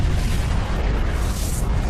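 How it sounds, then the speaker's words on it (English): A deep, sustained rumbling boom fills the whole stretch as a sound effect for a supernova, the colossal explosion of a dying star, loud and dense with no speech over it. "A supernova is the colossal explosion of a star at the end of its life."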